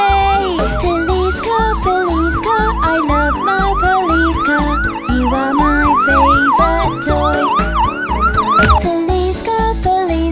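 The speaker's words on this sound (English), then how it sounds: "When the siren makes a sound, my police car always saves the day." A rising-and-falling police car siren wails repeatedly through a cheerful children's song, looping steadily over bouncy music and drums at full volume.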